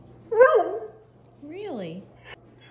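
A greyhound whines and yelps in a few rising, wavering cries, close by, with short pauses between them.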